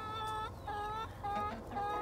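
Several farm hens cluck nearby in repeated short, harmonic calls spaced through a couple of seconds, sounding close over a low background rumble.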